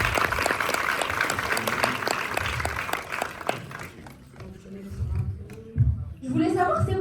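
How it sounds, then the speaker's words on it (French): An audience at a film premiere for « L'heureuse élue » gives dense, close applause with crisp individual claps, then it thins out and voices and murmuring take over toward the end. "Et on l'applaudit, bravo."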